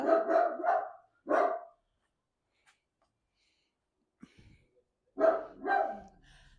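A dog barking in a home yard: a few loud, close barks in two quick bursts, then a pause of near silence, then another pair of barks.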